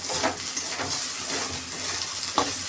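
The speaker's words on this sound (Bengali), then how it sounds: "মশলাটা আমার কষানো হয়ে গেছে, তেল ছেড়ে দিয়েছে" Masala paste frying in oil for a chicken jhal curry, with a steady close sizzle and crackle and occasional stirring scrapes, no voices.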